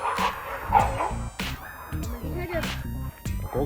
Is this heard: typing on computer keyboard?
no